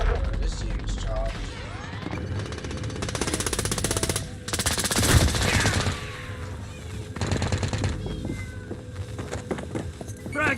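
Rapid automatic gunfire bursts in a Call of Duty Warzone match crackle loudly in several clusters, mixed with sharp single shots and impacts, while players' voices call out underneath.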